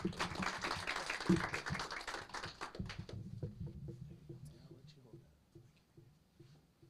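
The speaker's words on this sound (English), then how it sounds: "can we give Jesse a big round of applause" An audience at a city council meeting claps for an honoree, a dense round of applause that fades after about three seconds into scattered claps, with talk over it.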